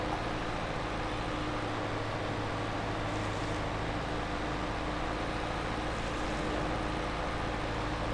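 A tractor engine idling steadily in Farming Simulator 22, a constant low hum with a broadband drone that holds level throughout, no talking.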